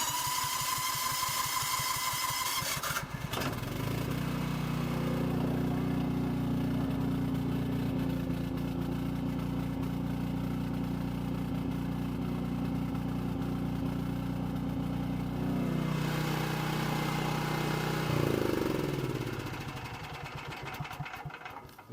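A Generac 5837 CorePower natural gas generator starts with a clatter, settles into a loud steady drone with a low hum, then winds down and shuts off near the end.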